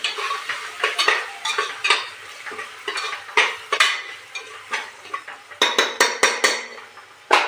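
Spices fry in a pan for dal khichdi, with a soft sizzle under repeated close scraping and clinking of a spoon against the pan in an uneven stirring rhythm.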